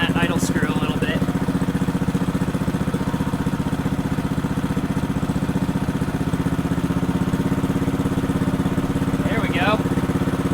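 Honda GX120 engine on a motorized bike idling, a steady close-up low chugging thrum with even firing pulses, with brief faint squeaks near the start and end.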